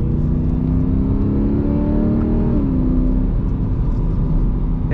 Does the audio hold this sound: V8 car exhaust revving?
yes